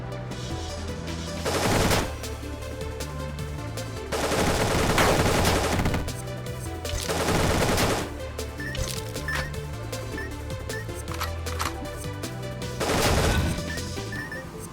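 Rapid bursts of AK rifle fire in the game Dungreed, several loud rattling volleys a second or so long separated by quieter stretches over a steady game music backdrop.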